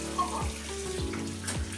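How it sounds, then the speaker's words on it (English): Running water splashes steadily from a bathroom tap while face cleanser is rinsed off, with a few quick wet splashes and drips from hands cupping water close to the microphone. "Literally just rinsing all that off."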